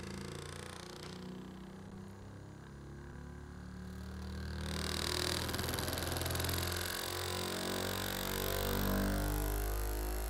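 A vehicle propshaft spinning at about 3232 RPM on a balancing run, a steady mechanical drone with engine hum that grows louder and fuller partway through, continuous and close, no talking.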